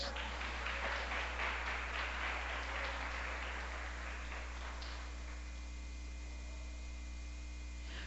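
A church congregation claps together during worship, a brief wash of applause over a strong steady electrical mains hum that fades after a few seconds, leaving only the hum.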